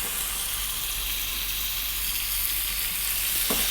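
Steaks sizzling in hot oil in a ridged skillet, a steady, loud, close frying hiss with crackle throughout and no one speaking.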